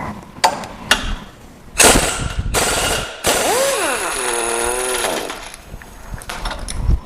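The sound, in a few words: impact wrench removing stuck Jeep bumper bolts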